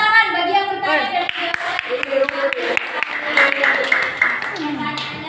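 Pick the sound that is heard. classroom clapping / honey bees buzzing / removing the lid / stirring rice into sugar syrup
classroom clapping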